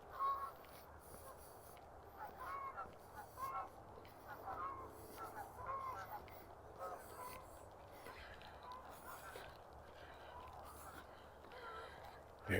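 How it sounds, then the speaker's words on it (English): Geese honking along a creek in Regina in October, a flock calling in scattered, repeated honks at moderate distance over low outdoor background. "Geese."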